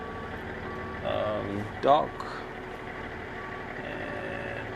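A box truck backs into a loading dock, its reversing beeps sounding faintly and steadily beneath someone talking close by, over a low engine hum.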